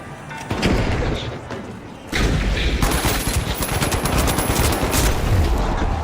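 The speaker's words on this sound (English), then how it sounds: "Deploying turret." Gunfire from a deployed turret in a video game, a dense continuous fusillade of rapid shots that grows louder partway through and carries on to the end, with no talk over it.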